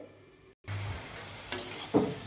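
Eggplant with fenugreek, salt and turmeric cooking covered in a pan: a brief cut to silence, then a soft, steady sizzle with a couple of sharper clinks of a lid or utensil near the end, no talking.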